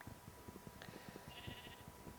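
Sheep bleating in Minecraft with the Feed the Beast modpack, a faint wavering bleat standing out over a soft, busy background of game noise and light thumps.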